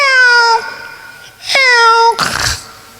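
Drawn-out, harmonic meow-like wails come in two long calls, loud and close, followed by a rough noisy burst; the sound may be a person imitating a cat.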